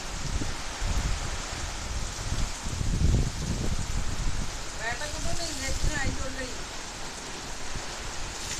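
Rain falls steadily, a dense, even hiss of drops that continues throughout, with a person's voice briefly heard partway through.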